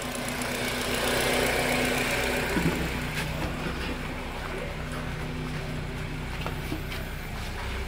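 A Honda Accord engine that had not run for over a year idles steadily after being restarted, a close, continuous rumble with a slightly uneven knocking pulse and a few faint clicks.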